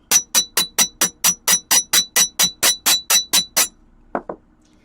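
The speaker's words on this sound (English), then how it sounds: "My hungry self is just going to sit here and hammer things now." A hammer makes fifteen evenly spaced, sharp metallic strikes in a steady fast rhythm while a mermaid scale necklace is crafted by hand, close and loud, followed by a pause and two softer taps.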